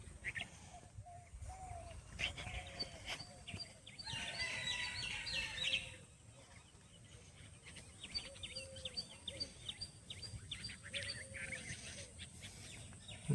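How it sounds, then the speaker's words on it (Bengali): Birds call and chirp around a morning yard where chickens are also heard. Short, scattered chirps and tweets come from a moderate distance and rise and fall in bursts, with no talking. "চারিদিকে পাখির ডাক,"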